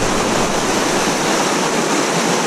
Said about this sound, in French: je suis sur un ruisseau qui est un petit peu grand par rapport à ce que je l'avais prévu